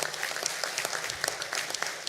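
Audience clapping steadily at the World Archery Congress elections, a dense, even burst of applause from a seated crowd in a hall, moderately loud and continuous.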